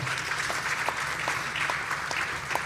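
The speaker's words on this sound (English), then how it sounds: "I think you need to clap for the governor one more time." An audience at an international investment conference applauds the governor, with steady, dense clapping throughout at moderate volume.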